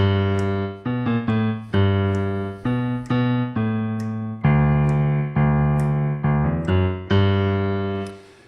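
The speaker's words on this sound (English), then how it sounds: "So you have a bass line," A piano plays a bass line in a blues style, a run of detached low notes in a bouncing rhythm, each decaying before the next, clear and close with no voices.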